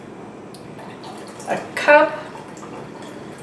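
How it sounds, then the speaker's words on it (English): Hot water pours briefly into a pickling brine for red onions, a short splashy gush partly under a person talking. "I want to add some hot water to it."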